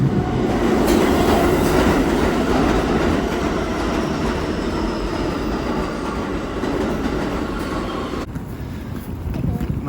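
New York subway train riding along, a loud continuous rumble with rhythmic clatter of wheels on track and a high metallic squeal, heard from inside the car.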